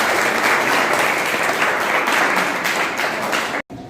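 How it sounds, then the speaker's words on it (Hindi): Loud, steady applause from a school quiz audience on acute encephalitis syndrome, dense clapping filling nearly four seconds before cutting off abruptly near the end. "जोरदार तालियों से इनका स्वागत कीजिए।"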